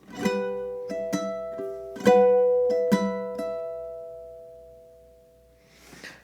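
A ukulele plays a section of a song, with several plucked chords and notes that ring out and slowly fade, followed by a short soft rustle at the end.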